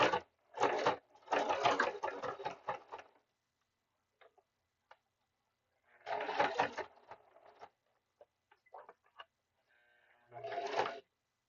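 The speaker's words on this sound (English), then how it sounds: "I'm going to top stitch this." A sewing machine top stitches seams in several bursts of rapid, rattling stitching separated by quiet pauses, with a few faint ticks in between.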